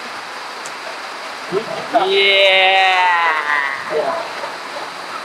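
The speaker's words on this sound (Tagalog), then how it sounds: "Guys, umuulan. Baka naririnig nyo naman eh." Steady rain hisses outdoors at a basketball game, a broad even wash of noise behind a person's loud drawn-out shout and scattered voices.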